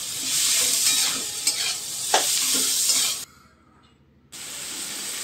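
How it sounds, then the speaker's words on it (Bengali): Chopped onions frying with salt in a pan for mutton curry, a bright sizzle with scraping stirs, then about a second of near silence before the hiss returns. "এবার একটু ভালো করে পেঁয়াজটা নেড়ে চেড়ে নিয়ে"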